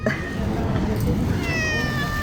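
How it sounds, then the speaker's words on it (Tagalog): A big cat at a beach, well fed on fish, gives a few meows over steady wind and surf noise, with a person talking nearby. "nilapitan ako ng pusa"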